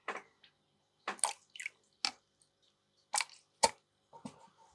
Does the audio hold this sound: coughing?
no